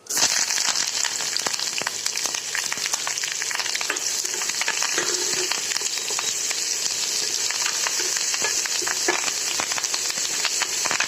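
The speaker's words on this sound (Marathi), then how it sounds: "हिंग चिरी आणि मोहरी टाकली फोडणीला तडतडायला चांगलं आता ह्याच्यामध्ये आम्ही कांदे टाकते" Steady, loud crackling sizzle of onions frying in hot oil tempered with mustard seeds and asafoetida, continuous throughout with dense spitting pops.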